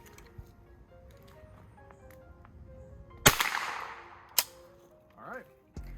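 Two sharp, loud .22 rifle shots from a Rossi RS22, fired at a target 25 yards away outdoors, a second or so apart and standing out over quiet ambient noise, with a brief bit of talk near the end.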